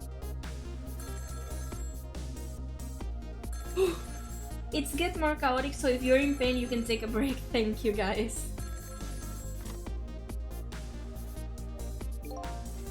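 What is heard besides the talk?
telephone ringing in the video game Ghost Trick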